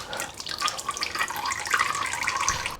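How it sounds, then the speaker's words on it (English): Engine oil draining from the oil filter housing of an Audi TT RS, a steady trickling, splashing liquid flow, fairly loud and close, with no speech. "And now this will drain the filter housing."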